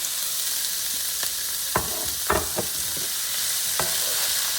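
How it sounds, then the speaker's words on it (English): Onion and cabbage for vegan pancit sizzle steadily in a hot pan, with a few sharp clinks and scrapes of stirring breaking through. "onion and cabbage, and let's fry it too"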